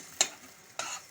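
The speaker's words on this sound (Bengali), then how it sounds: "মিডিয়ামে দিয়ে আমি রসুন, আদা, কাঁচা লঙ্কা সমস্ত সসের সাথে মিশিয়ে নিচ্ছি ভালো মতো করে" A spoon scrapes twice through a pan where garlic, ginger and green chilli are mixed into sauce over medium heat, two short strokes over a faint sizzle.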